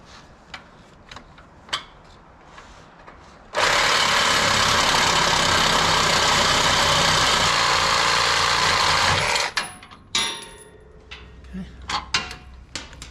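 A powered saw blade cuts off the end of a bolt on a 2021 Jeep Wrangler Rubicon, one loud, steady, high-pitched whine lasting about six seconds, with quiet clicks and handling noises before and after.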